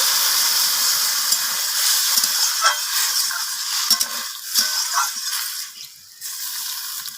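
Water is poured into a pan of sautéed vegetables for a Bengali greens dish, setting off a loud, steady sizzle and hiss with some stirring scrapes throughout.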